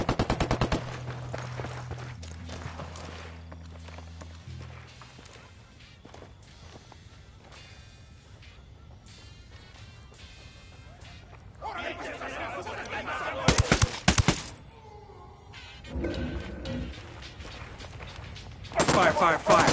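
A squad opens fire in Ghost Recon Wildlands, with several loud bursts of automatic gunfire and sharp shots clustered near the end after a quieter stretch of ambience and footsteps, and in-game voices in between.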